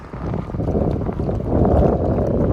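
Strong wind roars and buffets constantly on a Red Sea beach in Hurghada during a storm, mixed with rough surging sea noise that swells louder toward the end.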